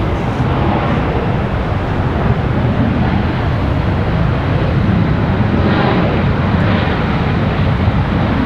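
An Etihad airliner in from Abu Dhabi arriving at Washington Dulles, its engines a loud, continuous broadband roar with a slowly shifting tone, dominating the whole scene.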